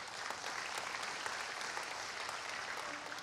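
Filipino church congregation clapping during an online service, a steady, moderately quiet patter of many hands applauding continuously for a few seconds.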